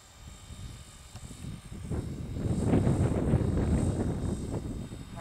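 An Arducopter 3.0 autonomous helicopter flies outdoors, its broadband rotor whir building from moderate to loud and steady with some wind noise on the microphone.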